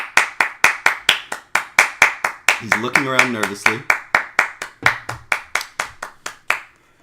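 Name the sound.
one person clapping hands during podcast story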